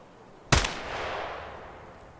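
A single sharp gunshot in the video game Escape From Tarkov, a brief loud crack followed by a long, fading echo over a quiet background.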